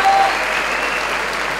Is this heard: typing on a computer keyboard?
no